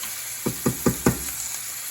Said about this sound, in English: Italian style sauteed mushrooms